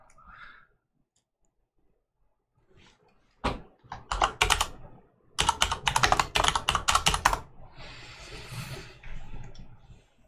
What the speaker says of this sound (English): I need to find a key on the keyboard